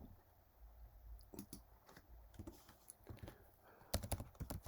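Rapid, quiet clicking of keys on a computer keyboard as a database query is typed, the taps coming in irregular bursts with a louder cluster near the end.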